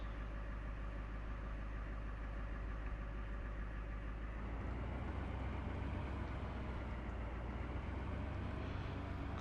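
In-game truck engine from Farming Simulator 17, a steady droning hum that holds constant, then shifts and rises in pitch as the revs climb about halfway through, with no talking.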